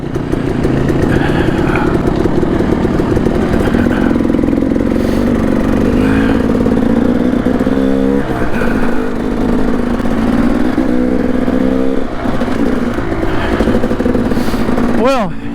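A Kawasaki KLX140RF dirt bike engine drones steadily as a young rider works up a single-track trail in Payson Canyon, the pitch rising and falling with throttle changes and a louder rev near the end, close to the microphone throughout.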